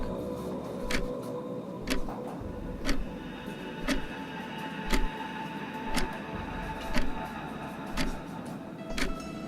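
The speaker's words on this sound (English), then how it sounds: "Were their senses not assaulted by the jackhammering of the clock?" A clock ticks loudly and steadily about once per second, each tick a sharp, close click over a low background rumble.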